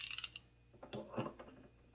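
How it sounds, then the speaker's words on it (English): Dewalt 1/2 inch drive ratchet from a Costco 173-piece mechanics set, giving a quick burst of bright clicks followed by a few softer, scattered clicks and mechanical rattles, close and alone. "See what we can do on that ratchet."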